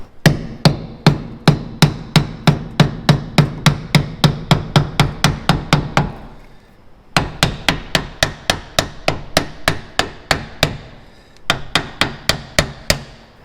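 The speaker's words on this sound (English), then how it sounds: "This is why we use the lead hammer." A lead hammer strikes parts on a Ford GT40 in a steady run of sharp, evenly spaced blows. There is a short pause, then a second burst and a third burst of hits, all loud and close, with no talking.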